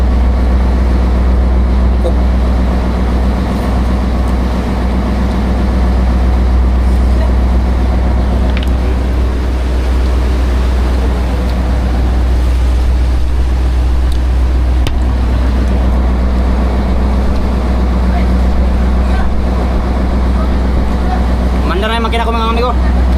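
Boat engine running at sea on the Pacific, a loud, steady low drone that continues unbroken throughout, with faint voices underneath and a brief higher whine near the end.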